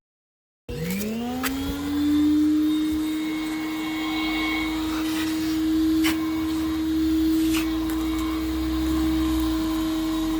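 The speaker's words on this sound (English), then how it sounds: "The old 5 horsepower vacuum." An old 5-horsepower shop vacuum starts up and runs steadily, a loud close motor whine holding a constant pitch, with faint clatter in the background.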